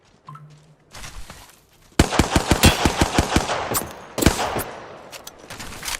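Bursts of automatic gunfire in Apex Legends, a sharp rapid string of loud close shots followed by scattered single cracks and a heavy blast, with quieter game sounds before.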